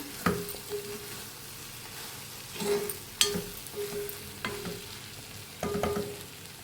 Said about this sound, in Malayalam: ഞാൻ കുറച്ച് ഉപ്പ് കൂടെ ചേർത്ത് കൊടുക്കുന്നുണ്ട് കേട്ടോ. എന്നിട്ട് നമുക്കൊന്ന് നല്ലപോലെ ഒന്ന് മിക്സ് ചെയ്തെടുക്കാം